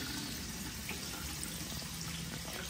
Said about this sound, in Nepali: त्यहाँ फेरि चिसो पानी हाल्यो